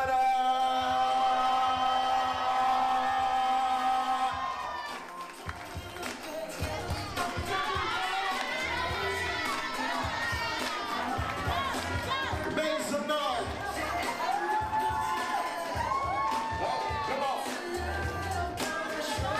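Wedding guests scream and cheer as the newlyweds are introduced at a May reception, a sustained loud burst of voices and whoops following an announcer's amplified words, with clapping mixed in.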